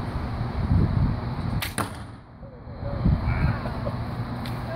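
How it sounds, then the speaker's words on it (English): An arrow loosed from a student's first handmade bow gives one sharp, close whoosh and snap partway through, set against steady outdoor wind noise. "First arrow off the first bow you ever made."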